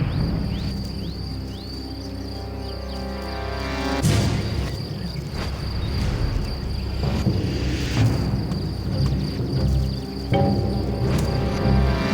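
Crickets chirp steadily in the background, a continuous high trill layered over low rumbling booms and gusts that surge at intervals.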